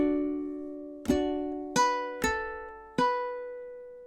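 Ukulele playing the first measure of a song, a few clear plucked notes ringing out one after another and decaying slowly, close and alone.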